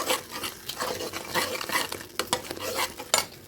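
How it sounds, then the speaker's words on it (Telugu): A utensil scrapes and clinks in a pan as turmeric, chili and salt are stirred through the food, with a soft sizzle underneath. The stirring is close and rhythmic, and no one speaks. "దీన్ని కలుపుకోవాలి మొత్తం"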